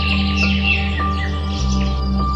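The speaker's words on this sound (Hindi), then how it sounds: "गूंजेंगी पक्षियों की मधुर चहचहाहट" Birds chirp sweetly around an old haveli, light scattered tweets heard over a steady low hum, moderately close.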